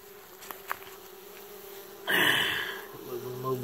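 Honey bees fan at the entrance of a newly installed hive, a steady close buzzing drone that swells suddenly as a bee passes near, with no talk.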